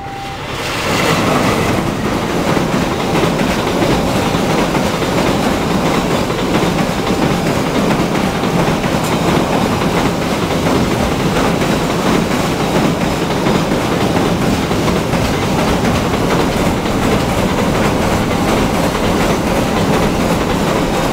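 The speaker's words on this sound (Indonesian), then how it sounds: "Ini kereta barang." A freight train rumbles past close by, a steady loud roar with rhythmic clatter of wheels over rail joints throughout.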